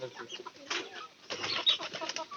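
Pigeons in a loft making soft low cooing calls mixed with rustling and shuffling movement, faint and close, with intermittent bursts of activity.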